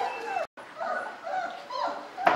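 Young 26-day-old puppies from a kennel whimper and cry in short, whiny yelps, several overlapping close up, with a brief break midway and a sharper sound at the end.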